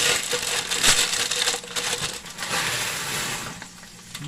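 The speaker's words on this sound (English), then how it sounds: "Once your water's boiling like that, you're going to open and dump in your noodles." Two pounds of noodles are dumped into a pot of boiling water for goulash, giving a dense, close, rattling and bubbling wash of sound that stays loud throughout without talk.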